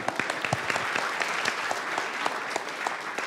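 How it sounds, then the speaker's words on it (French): An audience at a student science film event applauds a teammate, dense steady clapping throughout at an even level. "on peut l'applaudir."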